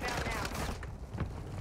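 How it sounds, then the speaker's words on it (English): Mortar strike explosions and heavy gunfire roll through a Call of Duty match as a dense, loud barrage of overlapping blasts. Voices break in under the noise. "Mortar strike inbound now."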